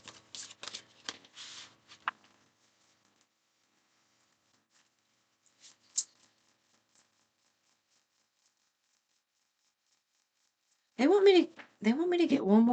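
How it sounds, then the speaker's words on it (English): Tarot cards being shuffled, with a few soft riffling bursts early on and a brief snap near the middle. Someone speaks close by toward the end. "One more shuffle."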